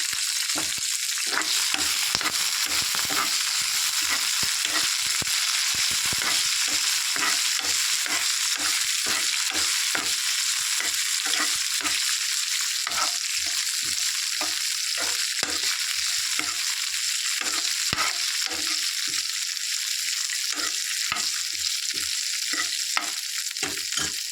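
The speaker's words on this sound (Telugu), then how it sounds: "పచ్చిమిర్చి వేసుకొని అందులో వేయించుకోవాలి. అలాగే జీలకర్ర కూడా వేయాలి." Green chillies, cumin seeds and garlic cloves fry in two spoons of oil in a pan, a constant close sizzle broken by frequent rhythmic scrapes and taps of a stirring spoon; no talking.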